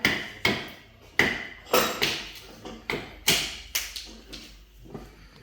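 About a dozen sharp, separate wooden knocks as an axe taps a carved wooden spoon blank to pop out small wedges, each hit decaying quickly, close and fairly quiet.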